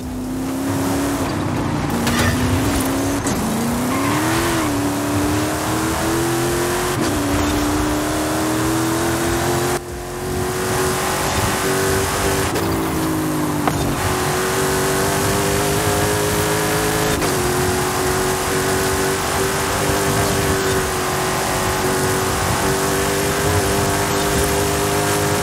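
A car engine in a racing video game revs and holds a strained, buzzing drone, pitch rising and dipping as the car accelerates and slows through corners, loud and constant throughout.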